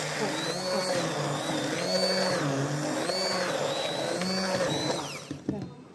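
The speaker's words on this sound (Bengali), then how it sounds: "হ্যাঁ, আমি ব্লেন্ড করে ফেলতেছি।" A blender whirs through soft-cooked food with a loud, continuous motor drone whose pitch rises and dips in cycles, then winds down and stops near the end.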